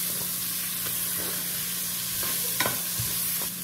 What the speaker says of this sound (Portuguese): Vou acrescentar agora a cebola aqui dentro. Vou dar uma mexidinha.